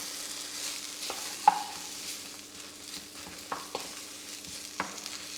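Frozen fries hit a pan with spice-bag mix and get stirred, a soft steady sizzle broken by several sharp scrapes and taps of the utensil.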